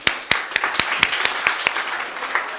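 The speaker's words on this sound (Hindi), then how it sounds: "चलो मुर्गे और मुर्गियों के लिए तालियां" A class 12 maths class claps together: sharp individual claps land roughly every quarter second over a thin, soft spread of other hands, fairly close and loud.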